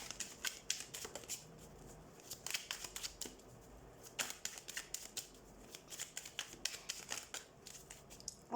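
A deck of tarot cards is shuffled by hand in soft, quick riffling bursts, close and fairly quiet, repeating steadily with brief gaps and no talk.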